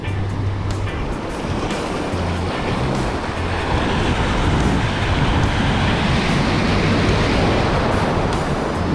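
Strong ocean waves wash and churn continuously off the Palawan coast during a fishing trip, a loud, dense, steady roar with a low rumble beneath.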